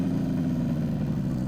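A 1967 Yamaha YL1-E Twin Jet 100 two-stroke twin motorcycle idles steadily and close, a low, even burble that holds without revving for the whole moment, with no talking over it.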